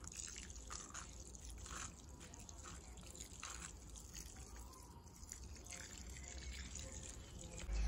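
Water is poured onto freshly sown sunflower, methi, coriander and beet seeds in a garden, a steady soft splashing trickle with drips, fairly quiet and close, with a voice speaking faintly at times.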